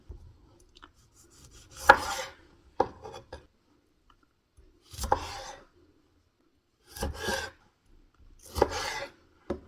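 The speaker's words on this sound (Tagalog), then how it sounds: "Sa maghiwa ko ng kamatis." A knife slices through tomatoes on a board for a zucchini quiche, making four separate bursts of cutting and rasping strokes with quiet gaps between them. Each burst is close and moderately loud, and no one speaks.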